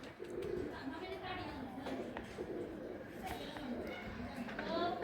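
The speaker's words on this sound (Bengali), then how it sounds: "আরেক জোড়া কবুতর, এটা হলো চান কপাল্লা কবুতর" Chand kopalla pigeons, a pair of male and female, coo in low rolling calls beneath steady chatter and someone talking, with faint chirps scattered through the busy loft.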